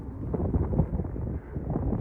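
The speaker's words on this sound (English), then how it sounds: "It is quite windy, so I hope the audio is okay." Strong wind blows across an open hillside near Pendle Hill after winter storms, buffeting the microphone with a continuous low, rumbling roar that swells and dips, with no voices.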